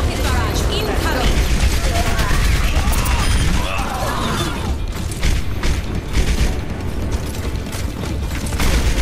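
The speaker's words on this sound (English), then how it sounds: "Rocket barrage incoming." Pharah's rocket barrage ultimate in the video game Overwatch unleashes a dense, continuous volley of rocket blasts and mechanical clatter, loud and sustained, with game voices mixed into the chaotic battle noise.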